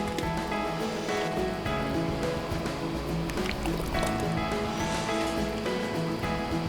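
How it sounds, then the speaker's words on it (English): Homemade strawberry jam is ladled into jars, making thick wet glugging and squishing sounds with soft clinks, steady and close throughout. "while I'm filling the jars"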